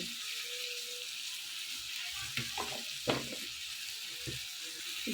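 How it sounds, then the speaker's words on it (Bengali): Soft, faint sizzle of ground spice mix frying in a pan for a fish curry with brinjal and potato, with a few light scraping stirs partway through. "এবার আমি মশলাটা একটু নেড়ে নিয়ে"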